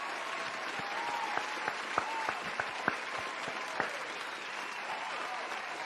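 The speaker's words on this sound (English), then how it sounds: "Give yourselves a round of applause" Crowd applause rolls on steadily and fairly loud, a dense wash of clapping with a few sharper, closer claps standing out, and no voices over it.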